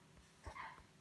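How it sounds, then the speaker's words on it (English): A dog lets out a single short, faint bark or yip, set against quiet room background. "sorry about my dog, guys. Just keeps barking."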